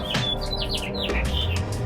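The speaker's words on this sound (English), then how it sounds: "look at that bird. Just singing." A bird sings outdoors at a ranch, a run of bright chirps and whistled notes repeating in quick succession, fairly close and clear over a steady low background hum.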